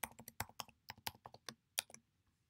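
Fingers type a login and password on a computer keyboard, giving a quick run of crisp, close key clicks in uneven bursts before the sound stops.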